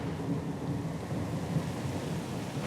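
Stormy weather at sea in Pillars of Eternity 2: Deadfire, with a steady low rumble of thunder and rain washing evenly over the scene, moderately quiet and without speech.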